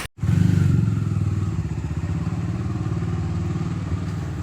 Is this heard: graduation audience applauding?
no